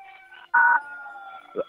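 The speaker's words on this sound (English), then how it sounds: "The kids love to hear the sirens with the fire trucks." A fire truck siren at the Shinnston Christmas parade gives a loud short whoop, then a sustained wavering tone and a brief final yelp, heard fairly close.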